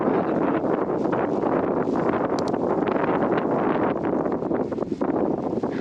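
Steady, loud wind roars and buffets the microphone without a break during a blizzard on a snowy fat bike trail, with no voices heard.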